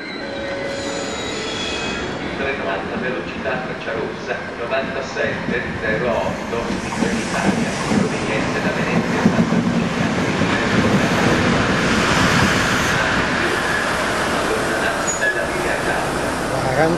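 An ALn 668 diesel railcar with two Iveco 8217.32 engines arrives on the Brescia-Parma line. A loud, steady rumble of engine and rolling wheels swells over the whole stretch, with squealing wheels and rail clatter mixed in.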